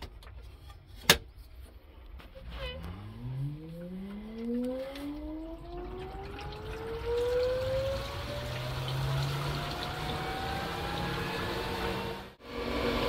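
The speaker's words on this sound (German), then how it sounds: "So, und jetzt auch nochmal die Pumpe anschalten." After a sharp click, a swimming pool filter pump starts up. Its motor whine climbs in pitch over several seconds, then settles into a steady hum as water flows through the system.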